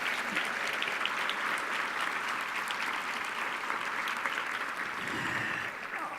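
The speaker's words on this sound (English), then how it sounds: "Can you all applaud the food servers?" An audience at a scholarship awards dinner applauds the food servers, with dense, sustained clapping from many hands filling the room evenly before easing off slightly at the end.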